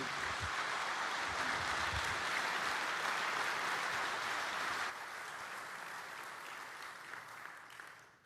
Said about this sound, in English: You clap now